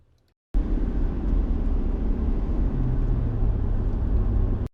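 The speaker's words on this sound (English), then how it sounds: "we have the interior of a car while it's driving" Steady road rumble inside a car while driving, a continuous low drone of engine and tyre noise that holds evenly after a brief near-silent start.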